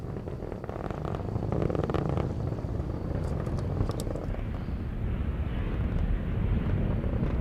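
A United Launch Alliance rocket with an RD-180 engine climbs toward max Q, a distant, steady, rumbling roar with broad crackling noise that swells slightly and stays constant throughout.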